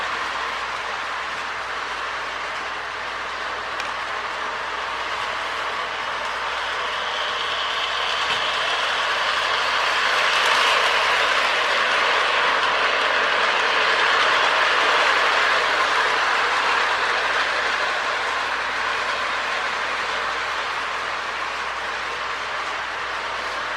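K-Line Hershey's 100th Anniversary Pacific model train locomotive, restored on a Marx 333 mold, running close by with a continuous loud whirring mechanical rattle that swells slightly midway.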